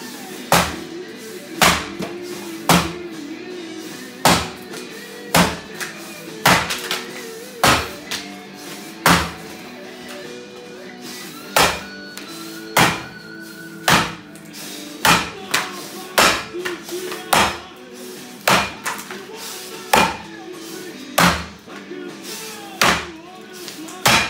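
An axe chops into a small piece of hardwood with a big heart, landing about two dozen sharp, woody blows at an uneven pace, some close together and some spaced apart, loud and near over faint background.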